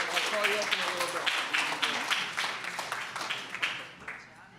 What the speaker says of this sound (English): I hope you heard that applause too.